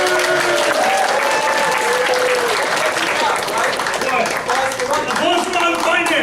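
Game-show audience at a charity event applauding, with dense, loud, continuous clapping throughout and crowd voices mixed in beneath.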